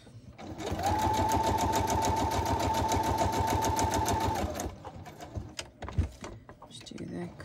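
An electric sewing machine stitches tags for a junk journal, a rapid, even mechanical whirring with a steady tone that runs for several seconds close by, then stops, followed by soft handling noises.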